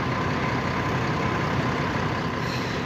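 A New Holland T7 260 tractor engine runs steadily during a wheat harvest, a continuous heavy, broadband rumble that stays loud and even throughout without a break.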